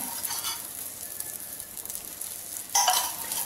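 Egg-stuffed bell pepper rings sizzle steadily in an oiled pan, a soft continuous frying hiss with a brief louder burst near the end as a ring is turned over.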